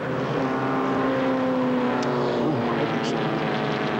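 Formula Vee race cars from 1979 roar around Amaroo Park in a loud, steady, buzzing engine drone with shifting pitch as the cars hold speed on the circuit, with a couple of faint sharp ticks near the end.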